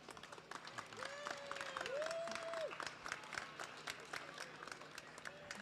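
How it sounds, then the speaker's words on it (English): Scattered crowd applause at a harness raceway, faint and distant clapping with background murmur and a brief tonal sound, quiet overall. "A big round of applause for the treat that we experienced by having Frank Salive announce for us today."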